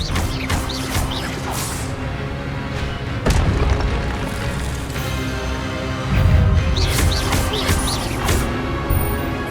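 Incendio fire spells erupt in Hogwarts Legacy as dense, loud magical bursts and booming crackles, two heavier blasts standing out amid a continuous roar of combat effects.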